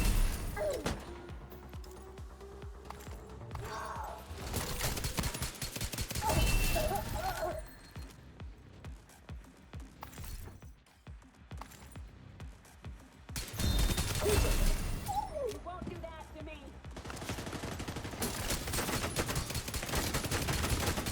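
Long-range pistol fire in a video game, a scatter of sharp shots in uneven bursts over a dense, busy game mix, with quieter stretches in between.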